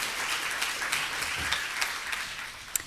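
Audience applause fills a conference hall during a speech at a humane education conference, a steady wash of many hands clapping at moderate volume throughout, with no one speaking.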